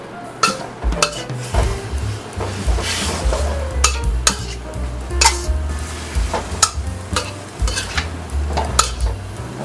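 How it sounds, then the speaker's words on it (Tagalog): Seafood chowmein vegetables are stirred hard in a pan over high heat, loud and close, with continuous sizzling under repeated scraping and clinking of a utensil against the pan in an uneven rhythm. "At saka nyo sisindahan uli sa high heat, mga lodi, at haluin yung mabuti."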